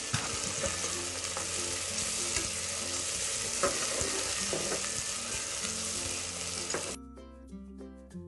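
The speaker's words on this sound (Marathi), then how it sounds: "आता कांदा आणि मटार थोडंसं परतून घ्यायचे" Onion and peas sauté in a pan for veg pulav, a strong, continuous sizzle with stirring for about seven seconds before music takes over at the end.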